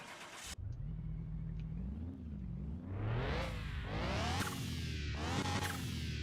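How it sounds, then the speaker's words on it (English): A turbocharged car engine in Car Mechanic Simulator 2021 cranks, catches and idles, then revs hard several times with rising whooshing sweeps, loud and close. "Oh, that turbo sounds terrible."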